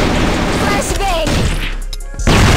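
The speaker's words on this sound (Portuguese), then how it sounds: "Flash bang." A flashbang grenade goes off in a first-person shooter match, a loud burst with a ringing tail before the noise cuts out briefly and game sound crashes back in.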